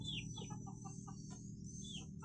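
Free-range Indonesian village chickens (ayam kampung) cluck and chirp in short, soft bursts, fairly close but quiet, against a steady low background hum.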